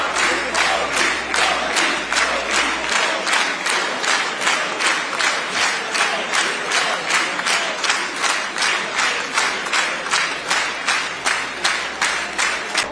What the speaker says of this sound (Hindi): तालियां बजा भी रहे थे इजरायली पार्लियामेंट के मेंबरान, और मोदी के नारे भी लगा रहे थे।